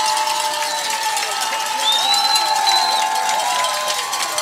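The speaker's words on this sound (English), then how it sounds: "getting the crowd pumped up here at Crawford Stadium." High school football crowd at Crawford Stadium cheering and shouting as players rally the stands, a loud, sustained roar of voices with shrill whistles and calls throughout.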